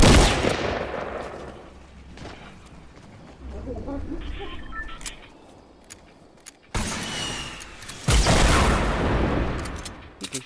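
Gunfire in a Fortnite match, loud bursts at the start and again near the end separated by quieter game noise, with people talking over it.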